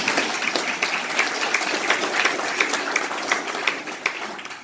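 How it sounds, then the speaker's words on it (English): Audience applause at a political campaign event, a steady wash of many hands clapping throughout, even and moderately loud with no one speaking. "You can clap."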